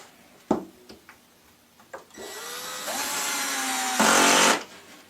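A power drill drives screws into a Forevermark lazy Susan base kitchen cabinet during assembly: a few sharp taps and clicks, then a steady, close whirring run that rises in pitch and ends in a louder burst before stopping.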